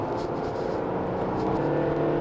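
A 2023 Volkswagen Touareg accelerates hard in sport mode on a track, its engine note rising in a continuous, fairly close roar with a whirring undertone.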